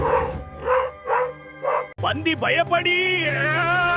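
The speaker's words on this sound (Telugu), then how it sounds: "ఆ శబ్దం విని కుక్క వచ్చేసింది." A dog barks about four times in sharp, evenly spaced yelps as it confronts a pig. A voice then speaks over a sustained tone.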